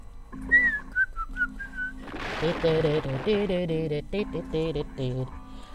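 Melodic human whistling of a short tune, a few rising and falling phrases alone at first, then joined by busier tonal music or voices with more layered sound toward the end.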